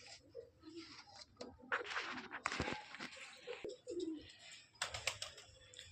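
Pet pigeons cooing at home, soft repeated coos close by with a few wingflaps and light rustling, quiet overall and no talk.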